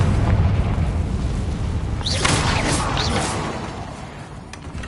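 A Confringo fire spell blast in Hogwarts Legacy, a loud booming, rumbling explosion that rolls on for several seconds, with sharp crackling flourishes midway before gradually fading.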